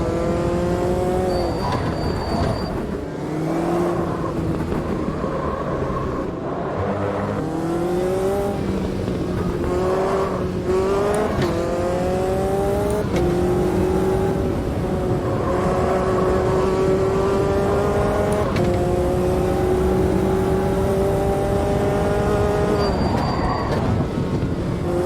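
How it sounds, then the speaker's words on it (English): A race car engine in Automobilista 2 screams loudly as it climbs through the gears up to sixth, each rising whine dropping briefly at a shift before pulling up again, with no talk over it. "Shifting through the gears up to the 6th"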